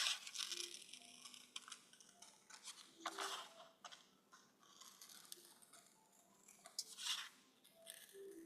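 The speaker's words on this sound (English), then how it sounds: "All right, let's cut it out." Scissors snip through paper while cutting out a paper baseball field, producing faint, close, intermittent crisp cuts and rustles in a quiet room.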